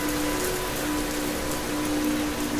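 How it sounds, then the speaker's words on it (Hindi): Steady rain falls on a surface at night, a dense, even hiss filling the whole stretch at constant level, with a faint steady hum running underneath and no voices. "बारिश शुरू हो गई।"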